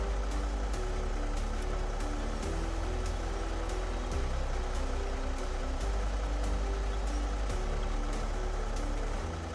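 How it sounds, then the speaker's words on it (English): In the Snowrunner video game, a heavy truck reverses with its engine droning low and loud while a regular series of short backup beeps pulses over it throughout. "It's making backup beep noises."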